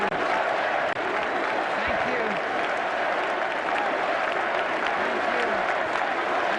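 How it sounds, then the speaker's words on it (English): Sustained, thunderous applause from a huge crowd at the Republican Convention, a dense wall of clapping and cheering that fills the hall without letup. "we'll stop when the applause dies down"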